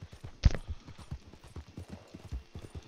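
Horse hooves clip-clop steadily at a riding pace in Red Dead Online, a regular rhythmic patter of moderate loudness with one sharper thump near the start and no talk over it.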